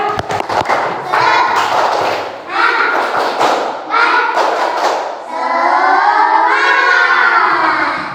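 A classroom of children claps out a quick rhythmic spirit clap, sharp close claps in a short burst, then the children chant and shout together in loud unison.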